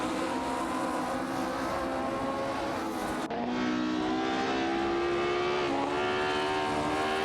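Race cars in an AI racing video game roar past one another, with a steady loud engine drone whose pitch jumps abruptly midway as one car shifts or takes over, continuous and without voices.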